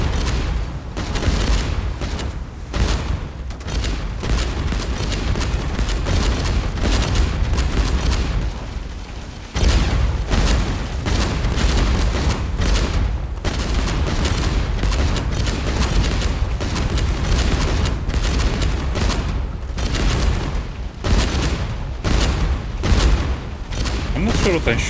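Ship cannons and explosions in the naval video game Age of Water fire in a dense, continuous barrage of loud booms and blasts, near and heavy, with talk mixed in over the battle.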